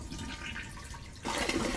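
A toilet flushes in a bathroom, a soft water hiss that suddenly surges into a louder rushing gush partway through, close by with no talking.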